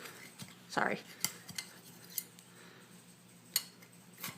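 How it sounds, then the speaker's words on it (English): Knife run around the edges of a hot baking pan, faint metallic scrapes and clicks in short irregular bursts at close range, with a louder scrape early on. "I'm gonna run a knife around the outsides to make it easier to get it out of"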